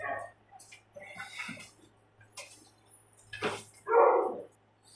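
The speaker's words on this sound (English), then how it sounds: "the dogs are going crazy again" Dogs at home barking and yipping in short scattered bursts, with a louder bark near the end, fairly faint over a low steady hum.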